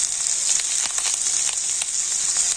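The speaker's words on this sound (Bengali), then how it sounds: "আর এবার আমি কেটে রাখা পটলগুলো তেলের মধ্যে দিয়ে দিচ্ছি" Sliced pointed gourd (potol) sizzling in hot oil in a pan, a steady, loud, close crackling hiss with dense spattering pops throughout.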